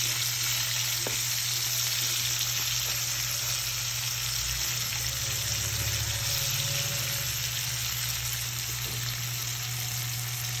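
Onions sizzle steadily in hot oil in a pan while frying for squid adobo, a dense continuous crackle with occasional stirring clinks, close and alone.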